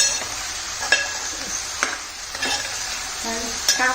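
Jackfruit vegetable is stir-fried with turmeric in a Konkan kitchen, a steady close sizzle broken by sharp spoon scrapes and clinks at irregular intervals, with no one speaking.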